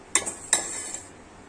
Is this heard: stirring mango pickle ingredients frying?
yes